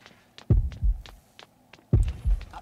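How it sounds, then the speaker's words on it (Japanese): A heavy, low heartbeat thuds in pairs, growing as a killer approaches in the mobile horror game Horrorfield, with two close double beats and faint ticking in between. "で心音が近づいてくる"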